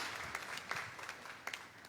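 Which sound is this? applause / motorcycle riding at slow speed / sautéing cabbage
applause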